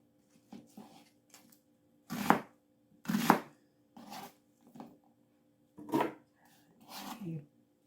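A knife chops through an onion on a board, with several separate, crisp thunks spaced irregularly and fairly quiet, nearby.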